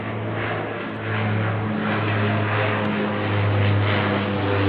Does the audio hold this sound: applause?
no